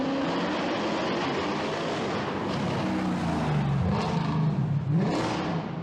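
Mercedes C63 AMG W204 with its M156 V8, a loud close engine roar that rises and falls through revs and a low swooping pass, running continuously without talk.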